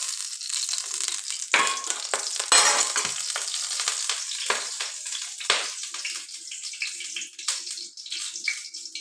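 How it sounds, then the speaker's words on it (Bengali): Mustard oil sizzling in a hot wok with water in it, giving a loud, constant frying hiss broken by repeated sharp pops and crackles of spattering, with no voices. "তেলে জল ফাটছে, ভয় লাগছে গায়ে যেন ছিটে না আসে।"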